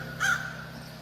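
A single harsh crow caw rings out as a sound effect in a Filipino aswang horror audio drama, one short call over a steady low hum.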